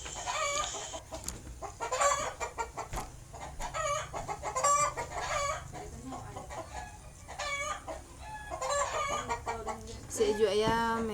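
Chickens cluck and squawk repeatedly nearby, with a rooster's crow rising near the end, a busy, continuous farmyard chorus.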